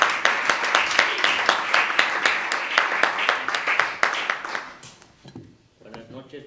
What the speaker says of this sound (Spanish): Reciban con un fuerte aplauso a Xavi Cañellas